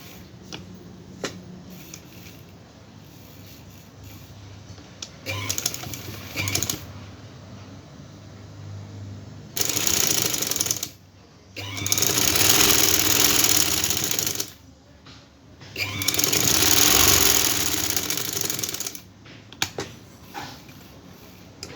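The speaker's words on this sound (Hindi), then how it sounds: "पहले हम यहाँ दोनों साइड पे सिलाई लगा लेंगे" A sewing machine stitches along both sides of a trouser leg in several bursts, each a fast, loud, steady whir lasting a few seconds, separated by quieter pauses with small clicks.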